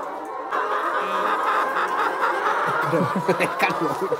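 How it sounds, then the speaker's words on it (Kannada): Native country chickens cluck and cackle at a chicken farm, a busy close flock of short rhythmic calls that grows louder and more varied toward the end. "ಇಲ್ಲಿ ನಾಟಿ ಕೋಳಿಗಳಿದೆ"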